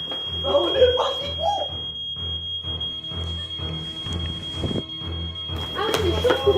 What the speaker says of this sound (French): Vous avez entendu le bip là, donc du coup tout le monde est en alerte et on part.